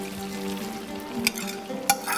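Mutton pieces sear and fry in a hot pan with onion about to go in, a steady sizzle broken by two sharp clatters of stirring near the start and end, no talking.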